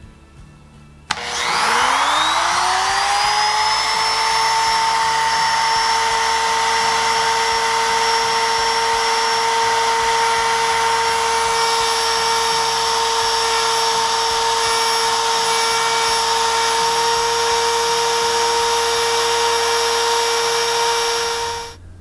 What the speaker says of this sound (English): Let's hope we don't lose control of this router and everything goes good.